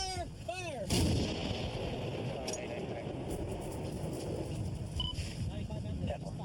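A single heavy artillery-style gun firing on a range, a sharp loud blast near the start followed by rumbling echo, with wind noise and voices calling commands around it.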